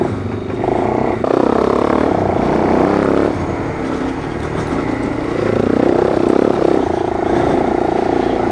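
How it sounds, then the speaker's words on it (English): A vehicle engine revs loudly up a hill in a wheelie attempt, with rising and falling throttle and clattering over rough ground, close by throughout. "I can make it do a wheelie on this hill"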